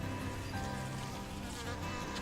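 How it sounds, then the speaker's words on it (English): A small bee buzzes around homestead garden plants, a continuous faint droning hum that wavers slightly as it moves, with no voices. "I've got a beautiful little bee coming around to try and pollinate everything for us."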